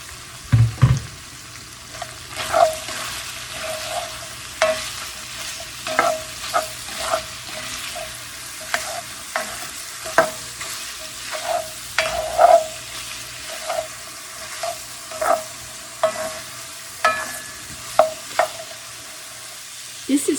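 Okra, squash, beans and peppers stirred in a frying pan with Italian sausage, soft sizzle under repeated scraping and clattering of a utensil, close and uneven, no talk.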